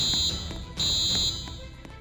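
School fire alarm in the Roblox Brookhaven game, a loud electronic high-pitched tone sounding in two long bursts with a short break between, over a faint busy background.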